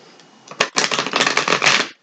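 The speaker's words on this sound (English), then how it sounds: "I want to give it one more shuffle." A deck of tarot cards is riffled and shuffled up close, a quick burst of flapping, ticking card edges that swells for about a second and a half before stopping abruptly.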